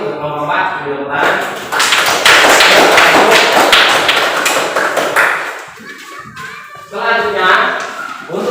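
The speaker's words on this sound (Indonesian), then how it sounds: "Tepuk tangan." A school class claps hands together in a classroom. A loud burst of sharp, rhythmic claps up close fades out, then children's voices and chatter come in around it.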